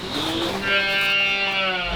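A sick male goat lets out one drawn-out, wavering bleat close by, with nothing else over it.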